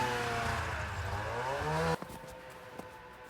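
Snowmobile engine droning steadily for about two seconds, then cutting off abruptly, leaving faint background noise and a couple of small knocks.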